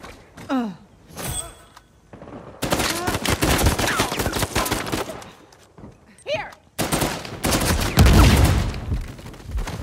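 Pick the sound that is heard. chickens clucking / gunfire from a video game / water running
gunfire from a video game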